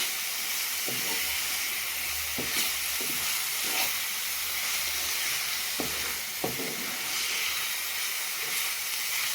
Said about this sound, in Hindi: कम से कम धीमी आंच में 1 मिनट तक हम इसे अंडे को मसाले के साथ भूनने देंगे।